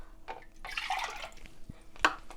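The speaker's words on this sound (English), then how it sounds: "In a jug, add the water," Water poured into a jug while mixing naan dough, a short splashing pour of a second or so with small clinks before and after, quiet and close with no talking.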